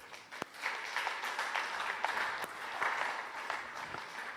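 A church congregation breaks into sustained applause during a sermon, a dense, fairly close wash of clapping lasting throughout with a few sharper claps standing out.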